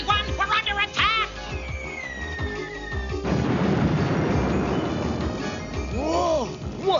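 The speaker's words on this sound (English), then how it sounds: "What a big explosion!" A cartoon robot is blown up in an animated action scene, with zaps and pops giving way to a loud, sustained roaring crash of explosion noise, followed by fizzing, descending effects.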